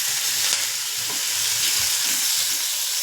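Tomato and onion frying in hot oil, a continuous close sizzle with bubbling crackle and light stirring scrapes.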